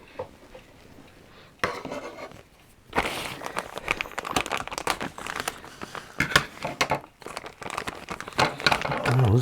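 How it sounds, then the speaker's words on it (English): Stiff heat-sealed plastic bag holding coil parts is cut open, giving loud crinkling, crackling and rubbing bursts that start after a quiet moment and continue irregularly to the end. "And we're going to have to cut the bag."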